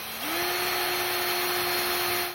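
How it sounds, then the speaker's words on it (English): A power drill pre-drilling holes in wood while building a garden tuteur spins up quickly and holds a steady, loud whine for about two seconds before cutting off, heard close with no talking. "Pre-drilling the holes is going to prevent the wood from splitting and also make driving the screws in easier."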